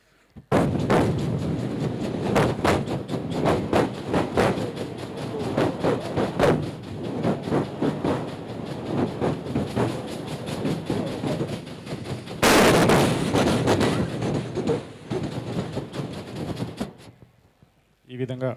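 On stage at a mimicry act during a TV awards show, a performer's voice imitates three trains passing on different platforms at once. Dense rhythmic bursts of clatter run continuously for about seventeen seconds, with a louder surge near the end before it stops.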